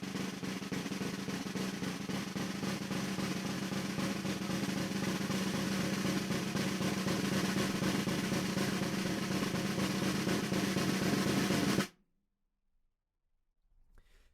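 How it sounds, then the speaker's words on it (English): A snare drum buzz roll, sustained as a steady multiple-bounce roll at an even, dense texture for about twelve seconds before stopping abruptly into silence. "A buzz roll, multiple bounce roll, looks and sounds like this."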